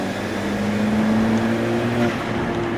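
An Alfa Romeo 4C sports car drives along with a steady engine drone and rising tonal whine, loud and close from inside the cabin, with no talking.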